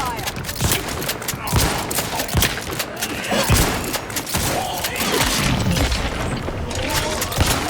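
Sustained gunfire from The Outer Worlds 2 on PC, a dense barrage of booming shots and rapid bursts that rolls on without pause and stays loud and close throughout.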